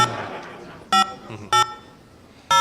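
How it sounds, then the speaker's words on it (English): Telephone dialing tones: three loud, crisp touch-tone beeps spaced about half a second to a second apart, with faint talk and room noise between them. "We're going to dial the number now."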